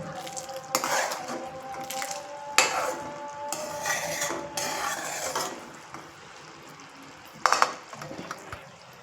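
Sesame seeds stirred in a metal pan for laddu, with repeated scraping and clinking of a spoon against the pan in bursts, close and fairly loud, with quieter pauses between strokes.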